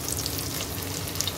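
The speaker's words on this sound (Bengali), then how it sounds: "আমি এখন কাঁচামরিচ 4-5টা দিয়ে দিচ্ছি।" Four or five green chillies sizzling in hot oil alongside garlic for a lentil dish, a dense crackling hiss that stays loud and steady over a short moment.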